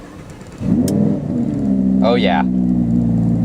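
A 2020 Audi R8 engine bursts to life at close range, rising into a loud, sustained rev as the sports car accelerates, with a brief voice heard over the engine.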